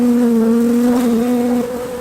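A honeybee buzzes loud and close around hands at an opened hive, a single steady tone that drops away near the end.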